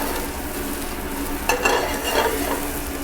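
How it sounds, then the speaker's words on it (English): Crispy potatoes with onions and garlic sizzle steadily in a pan, and a couple of quick tosses add brief scraping rustles midway, with no talk. "Going to give it just a couple of quick tosses to make sure that the onions and the garlic are evenly distributed around the potatoes."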